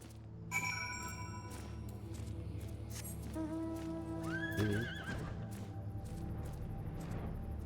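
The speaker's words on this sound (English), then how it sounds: "Horse." A horse in the online role-playing game Final Fantasy XIV gives a loud, clear whinny, with rising and falling calls over clip-clop hoofbeats and game music.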